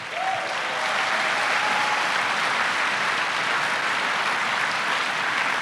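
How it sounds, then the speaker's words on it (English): A live audience at a podcast's 2000th-episode event applauds as participants walk out, a broad, even wash of clapping that stays loud and sustained throughout, with no talk on top. "let's have a round of applause as our participants come out"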